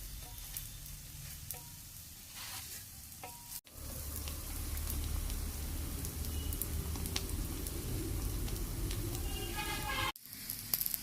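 A spinach and paneer paratha roasting crisp on a hot griddle with ghee or oil; steady close-up sizzling and crackling, soft at first, then louder and fuller after a brief cut.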